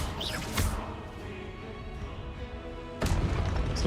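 Confringo blast spell in the Hogwarts Legacy video game, sharp impact bursts with a crashing boom near the start and another hard hit around three seconds, over a rumbling game background.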